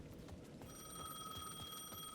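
A telephone rings in the video game Alan Wake II, a bright electronic bell tone that starts partway in and holds steady, sounding fairly faint over a muffled ambient background.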